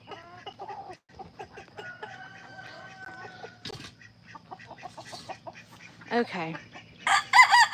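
Farmyard chickens cluck in short bursts and a rooster crows loudly near the end, close by, with a person briefly speaking in between.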